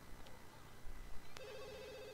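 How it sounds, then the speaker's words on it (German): A telephone rings in The Sims 2, a single electronic trill that starts partway through and holds steady over a faint game background, fairly quiet. "Ach, das Telefon bimmelt, kennen wir ja schon."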